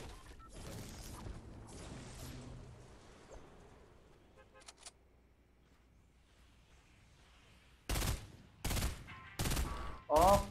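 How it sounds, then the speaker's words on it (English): Gunfire in Fortnite Battle Royale: four loud, sharp bursts of shots come in quick succession near the end, after a stretch of quieter game ambience with players talking over it. "Oh, someone's shooting."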